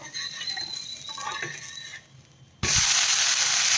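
A ragi dosa is flipped on a hot pan: soft scraping and patter, then a sudden loud, steady sizzle of frying that continues to the end.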